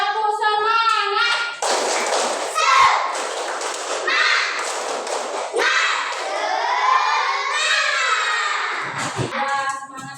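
A classroom of children performs a rhythmic spirit clap, their claps mixed with loud shouted chanting in a fast, energetic pattern.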